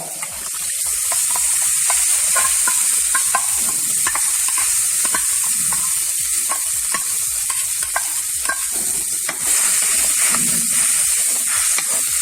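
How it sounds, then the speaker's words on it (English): Continuous close sizzle and crackle of masala frying in a mud pot for prawn curry, with soft stirring scrapes throughout and no talk. "This will allow the masala to cook well."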